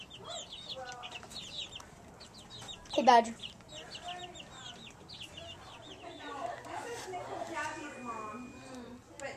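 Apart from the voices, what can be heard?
chickens clucking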